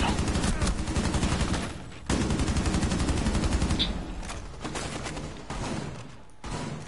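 Rapid automatic gunfire from the video game Rainbow Six rattles loudly in sustained bursts, with a short gap, then further volleys that trail off into quieter shots.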